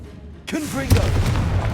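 A Confringo fire spell in Hogwarts Legacy on PS5 lands with a sudden booming blast and crackling burst, then a second heavy impact, loud and close in a short game moment, with a voice over the effects.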